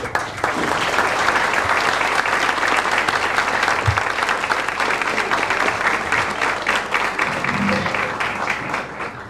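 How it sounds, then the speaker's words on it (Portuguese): Sustained audience applause at a tribute event in Caldas das Taipas, dense and steady clapping from a crowd filling the room for about nine seconds without pause. "Uma salva de palmas."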